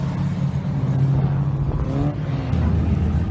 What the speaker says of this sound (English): the car is still running